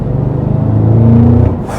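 A 2024 Cadillac CT5-V Blackwing's supercharged engine pulls hard in third gear, a loud, close rumbling roar with a rising whine that climbs steadily for a moment before easing off.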